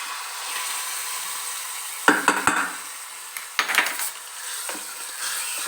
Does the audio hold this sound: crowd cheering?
no